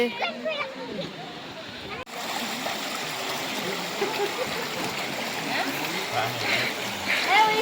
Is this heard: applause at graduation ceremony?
no